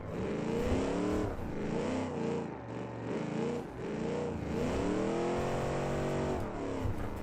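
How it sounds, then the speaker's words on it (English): Car engine in the BeamNG driving game revving hard with wheel spin, a loud, continuous simulated motor whine rising and falling in pitch through repeated acceleration surges, heard alone. "That's some nasty wheel spin."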